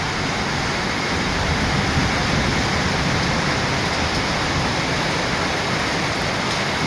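Heavy rain pours down steadily on a coffee estate in Sakleshpur, a dense, unbroken wash of loud hiss and roar that holds level throughout with no voices.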